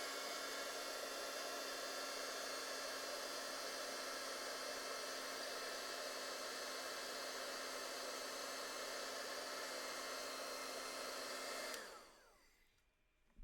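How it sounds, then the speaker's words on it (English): Heat gun melting gold embossing powder on a handmade card, a steady whirring blower drone with a constant tonal hum that runs unbroken, then switches off abruptly near the end. "we're gonna heat emboss this till it turns bright, shiny gold"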